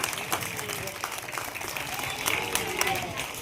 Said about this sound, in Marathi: जोरदार टाळ्या वाजवायच्या रुद्रासाठी.